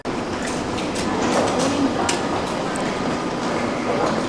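Train to Vienna airport riding along, a steady loud rumble and hiss of wheels on rail with occasional faint clicks, heard from inside the carriage.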